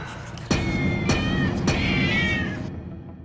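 Kittens meow in a kitten room, several high, wavering cries overlapping close by against a steady low background hum, starting sharply after a brief quiet lead-in and fading out near the end.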